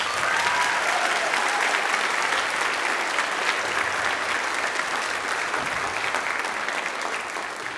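A school band concert audience at Red River High School claps in a dense, sustained round of applause that fills the hall and fades slightly at the end.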